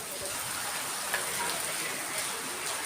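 Heavy summer rain falling steadily outdoors, a dense, even hiss of rain on surfaces with no breaks, continuous and close.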